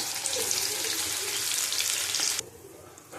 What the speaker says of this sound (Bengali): দেখো গোটা গোটা পটল ভাজা